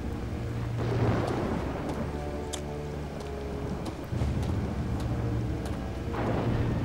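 A thunderstorm in the video game Two Worlds: steady rain and wind with low rumbling swells and scattered sharp cracks, continuous and fairly loud with no talk.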